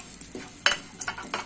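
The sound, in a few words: spices poured into hot oil, sizzling and stirring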